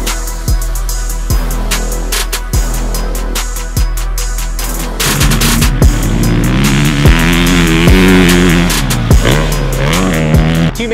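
A 2018 Husqvarna FC450 motocross bike laps a dirt track at Glen Helen in 105-degree heat, its four-stroke engine passing close by with loud revving and shifting pitch, broken by repeated short sharp bursts.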